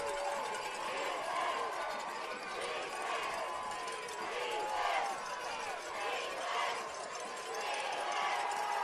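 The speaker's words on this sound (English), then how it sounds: "Take a listen to this crowd." A high school football crowd at Wasco versus Shafter roars with steady, dense cheering and chanting from packed stands, loud and continuous, with voices shouting across the whole stretch.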